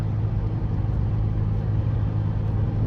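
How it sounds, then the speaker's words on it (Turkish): A 2009 Audi A3 engine held at around 3000 rpm gives a continuous low, heavy rumble, steady and close throughout. "Şu an mesela ayağımı komple çektim hala 3000 devirde devam ediyor."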